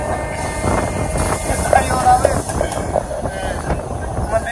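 At a railway station in Amritsar, a continuous rumbling clatter of a train is heard close by, mixed with wind buffeting and people talking nearby.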